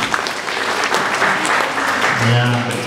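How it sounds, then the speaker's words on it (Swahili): A wedding crowd claps steadily for the administrator, a dense, continuous round of applause, with a voice audible over the clapping. "Tupigie makofi administrator"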